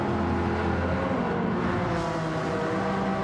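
Race cars, a Lamborghini among them, in a racing video game on a circuit, a continuous loud engine drone with steady high revs and a faint shift in pitch.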